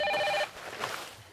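A cell phone rings with a bright repeating electronic trill during a convocation keynote speech in a hall, loud for about half a second before cutting off, leaving faint room noise.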